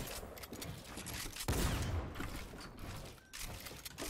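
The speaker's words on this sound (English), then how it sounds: "I hear gunshots" Rapid bursts of gunfire in Fortnite crackle through a dense, noisy mix, with a sharp loud burst in the middle and more shots scattered throughout.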